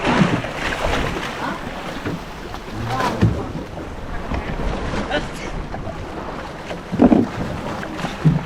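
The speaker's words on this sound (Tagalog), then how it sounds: "Grabe ang alon." A boat motors through choppy water, with wind buffeting the microphone, waves thudding against the hull and faint voices now and then.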